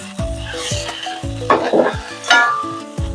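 Finely chopped onions sautéing in a pan for spicy Maharashtrian pithla, loud close sizzling with repeated metal spatula scrapes and clinks against the pan, no one speaking.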